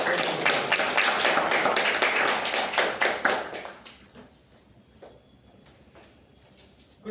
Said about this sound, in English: Let us call upon with a big round of applause.